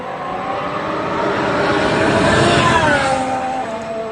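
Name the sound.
Formula 1 car driving on track at Silverstone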